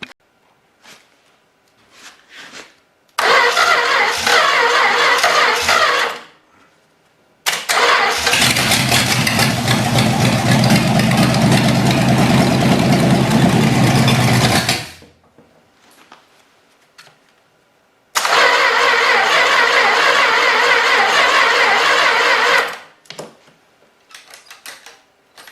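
A 318 engine cranks and catches in three separate attempts, each burst loud and close; the middle run fires up into a rough, heavy idle for several seconds before shutting off, with quiet gaps and faint clicks between tries.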